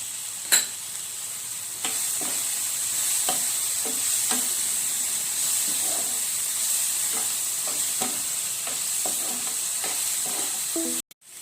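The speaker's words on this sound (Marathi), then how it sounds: "लवकर फ्राय होतो कांदा टमाटर" Onion and tomato frying in a pan for puri bhaji, a steady close sizzle that runs throughout, broken by repeated soft scraping stir strokes at irregular intervals and a sharp clatter at the very end.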